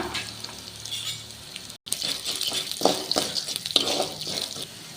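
Chana dal, toor dal and coriander seeds roast in oil in a pan, giving a soft, continuous crackling sizzle broken by a brief pause and several light stirring clinks.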